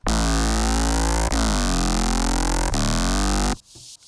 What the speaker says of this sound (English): to this electronic bass sound